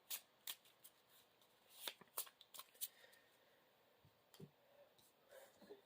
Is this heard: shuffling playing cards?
yes